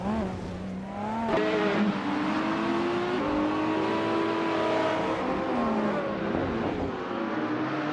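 A Ferrari 488 Challenge race car in a racing game, its engine revving and shifting up through gears with rising and falling whine, loud and close, with brief tire squeal.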